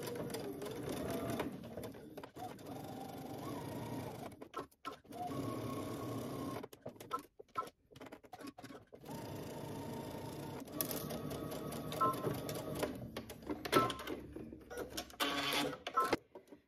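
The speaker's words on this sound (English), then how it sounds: "we're gonna stitch, starting at the top, back stitching using 5/8 of an inch seam allowance" Sewing machine running a 5/8-inch seam on a pocket with back stitching at the start and end, a steady close motor hum broken by brief stops and restarts, alone without speech.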